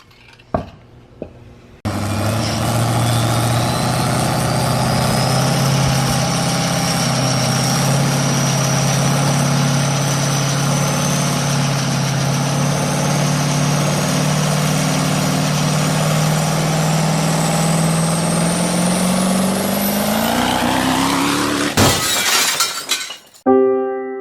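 A heavy 6.7 Powerstroke diesel truck engine with a big turbo roars steadily at high revs, then winds up sharply, ending in a harsh rattling clatter from an exploded torque converter stator before cutting off.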